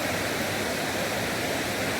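Waterfall on the Jaldhaka river at Bindu, Kalimpong, pouring as a steady, dense roar of rushing water that fills the whole two seconds without a break, close and loud with no voices.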